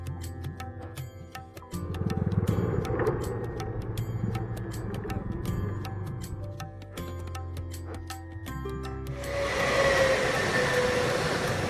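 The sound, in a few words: train journey, train arriving at station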